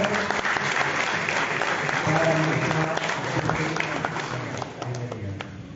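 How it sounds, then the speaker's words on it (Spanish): Loud, sustained applause from an audience at a tribute ceremony in Chimbote, steady throughout with a voice speaking over it partway through. "Fuertes los aplausos"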